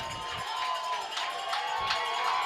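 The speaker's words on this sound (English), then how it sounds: "You hear the crowd in their background." Crowd noise from the stands at a high school varsity football game between Oak Hills Highlanders and Lakota West Firebirds, a steady murmur of distant fans with brief swells of cheering and some faint voices mixed in.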